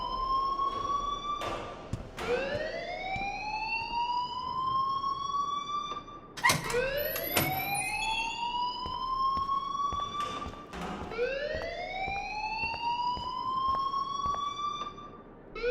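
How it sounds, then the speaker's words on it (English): A school alarm in the video game Life Is Strange, a loud rising electronic wail repeating about every four to five seconds, with a few sharp knocks and clanks over it and no speech. "please turn off that alarm since that's your job"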